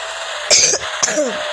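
A person coughs twice in quick succession, close to the microphone, over a steady hum of background noise in a driving-simulator game.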